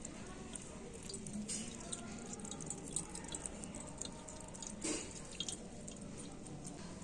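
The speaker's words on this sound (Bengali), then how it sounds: "হাত দিয়ে এইরকম যতটা সম্ভব আমি জলটা একটু ঝরিয়ে নিচ্ছি" Water drips and trickles from a knotted cloth wrung out by hand, a close, wet patter of drops that stays fairly soft and steady throughout.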